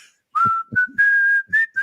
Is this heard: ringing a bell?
no